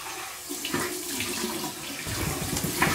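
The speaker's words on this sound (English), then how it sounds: "Okay, so here's my cold water rinse." Cold water runs from a sink tap in a steady, hissing stream for a few seconds at a shaving basin, heard up close with no talk.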